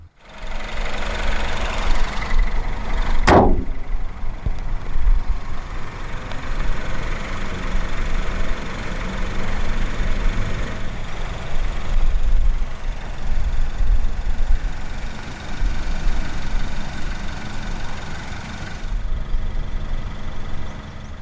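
A 2016 Peugeot 408 Turbo sits idling just after start-up, a steady low engine hum with a faint knocking texture and one sharp transient early on, no voices.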